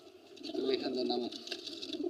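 An old-breed brown-necked pigeon in a loft gives a soft, close, rolling coo lasting about a second, with faint background noise around it.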